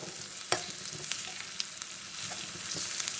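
Onions fry and sizzle in a pan for mutton chops, with a steady close hiss and occasional stirring scrapes and pops, and no talking.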